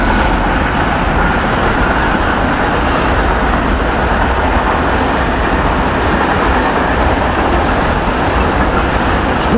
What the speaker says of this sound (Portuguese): um trem, e agora está aqui a passar.